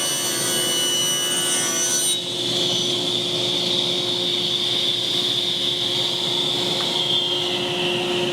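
Power saw cutting a wooden carved sign board to size, a loud steady whining drone with a high tone that shifts pitch after about two seconds as the blade bites into the wood, continuous and close.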